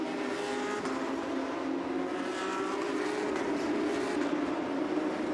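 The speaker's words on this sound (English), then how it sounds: "GT3 Cup cars revving their engines for the formation lap" Porsche GT3 Cup race cars on the grid at Dubai Autodrome before the formation lap of a Porsche Sprint Challenge Middle East race, a steady dense engine roar with a sustained low drone throughout, no talk.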